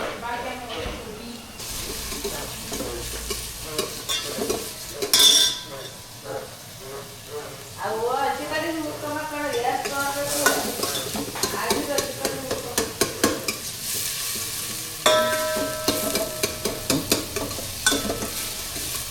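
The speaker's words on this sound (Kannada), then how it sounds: "ಗೋಲ್ಡನ್ ಬ್ರೌನ್ ಆಗೋವರೆಗೂ ಚೆನ್ನಾಗಿ ಬಾಡಿಸಿ." Sliced onions fry in hot oil in a village home kitchen, crackling and sizzling as a spoon scrapes and stirs them around the pan, with scattered loud clatters and pauses.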